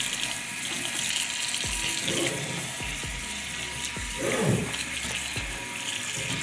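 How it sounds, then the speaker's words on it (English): Tap water runs steadily over a silicone brush-cleaning mat while makeup brushes caked with foundation and oil are scrubbed against it, the continuous splash broken by several short, rhythmic scrubbing strokes close by. "as the water is running on the mat, I'll have the brushes being scrubbed onto the pad near where the water is running"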